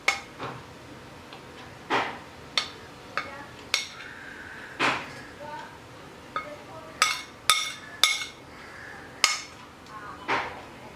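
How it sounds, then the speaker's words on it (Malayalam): Curry ingredients for pumpkin pulissery drop into a small mixer grinder jar as a string of about a dozen sharp, close clinks and taps at irregular intervals, with quiet pauses between them. "മിക്സിയുടെ ഒരു ചെറിയ ജാറിലേക്ക് എല്ലാ ഇൻഗ്രീഡിയൻസും കൂടി ഒന്ന് ഇട്ട് കൊടുക്കാം"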